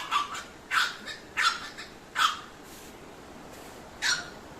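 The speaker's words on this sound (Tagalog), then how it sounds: "Habang yung isang aso, ayun, nang ingay." A dog barks about five times in short sharp bursts with pauses between, fairly close and moderately loud over quiet indoor background.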